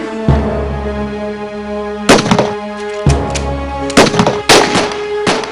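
Gunfire in a drama scene: several loud, sharp booming shots land at irregular intervals, each with a heavy low thump, over a steady hum of background music.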